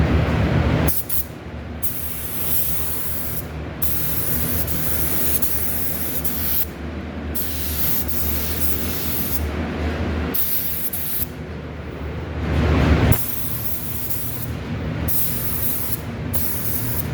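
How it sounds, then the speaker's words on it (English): Clear coat finish is sprayed in long continuous hissing bursts from a spray gun, close and steady, with brief pauses between passes and no voices. "to throw a couple coats of clear on it and let it dry"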